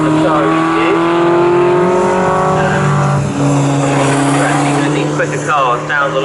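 Race cars in a Mazda series race at Snetterton roar down the long straight, engines close and loud, rising in pitch, then dropping as one car passes and another follows. A commentator talks over them.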